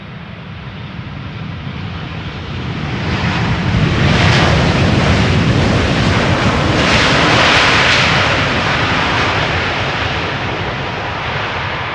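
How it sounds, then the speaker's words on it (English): A Boeing 787 Dreamliner arriving from Curaçao roars in over fields near Schiphol's Polderbaan, its loud engine rumble swelling through the middle of the pass and easing slightly toward the end, heard alone without voices. "coming in from Curaçao, Dreamliner flight"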